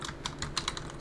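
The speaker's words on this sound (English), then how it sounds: "I'll actually just go ahead and type that out." Keystrokes on a computer keyboard typed out steadily in quick irregular clicks, close and fairly clear, with no voice over them during a live forex day-trading session.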